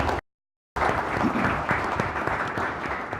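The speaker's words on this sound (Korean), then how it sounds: "애국심을 가지고 박수 한번 보내주세요" At a policy forum on the mobile content industry, an audience breaks into a short burst of dense applause, briefly cut by a moment of silence before the clapping resumes.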